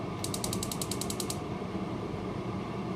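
A quick run of about ten sharp mechanical clicks, like a gas stove knob being turned, over a steady low background hum.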